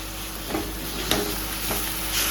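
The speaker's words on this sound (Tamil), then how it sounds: "லைட்டா இந்த ஒரு 2 வதக்கிட்டு வச்சிருக்க புதினா, கொத்தமல்லி எல்லாத்தையும் போட்டு நல்லா வதக்கிடலாம்." Mint and coriander leaves being sautéed in masala for pepper chicken, giving a steady soft sizzle with a few faint stirring scrapes, close by and without talk.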